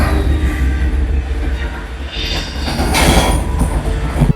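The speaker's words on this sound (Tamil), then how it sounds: "இப்போ இது எந்திரன் மூவில வந்து ஒரு இந்த ட்ரெயின் சீக்வன்ஸ் ஒன்று இருக்கும்." A train sequence from the film Enthiran plays loudly through a 5.1 surround amplifier: a steady rumbling roar of rolling rail cars with rising metallic squeal and clatter, continuous throughout.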